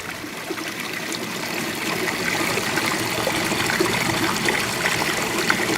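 Water trickling and streaming past a boulder in a small placer gold river model, a close, steady babble that swells slightly over a few seconds, no voices.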